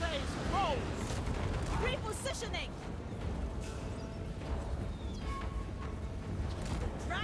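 Crackling gunfire and dull blasts in Total War: Warhammer III, a dense continuous battle din of shots and rumbling explosions, with someone speaking German over parts of it.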